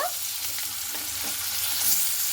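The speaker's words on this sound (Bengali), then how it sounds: "এরপরে আলুটাকে লাল লাল করে কিন্তু ভেজে নিতে হবে।" Cut potatoes fry in a small amount of oil in a wok, making a continuous close sizzle with faint stirring scrapes throughout and no talking.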